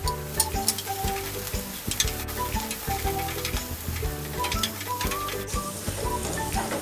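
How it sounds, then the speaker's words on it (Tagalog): Garlic fries in hot cooking oil in a pan, a steady crackling sizzle with occasional metallic scrapes and clinks of a utensil stirring, close and continuous with no talking. "Uunahin natin ang ating bawang or garlic. Again, fry it for a few seconds to a minute."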